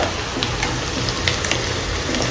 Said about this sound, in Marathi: तर बघा आता कांदा छान भाजत आलेला आहे